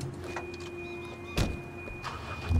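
A car in the video game Sleeping Dogs idles with a steady low engine hum, broken by a couple of sharp mechanical clunks, with no one talking.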